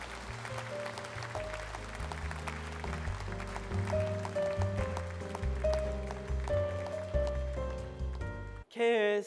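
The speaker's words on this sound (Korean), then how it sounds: "따뜻한 사랑의 박수로 맞이해 주시기 바랍니다." An audience at a Korean diaspora world mission conference in 2018 greets the convention chair with warm, sustained applause, a steady wash of clapping beneath prominent stage music, ending with a sudden sharp sound.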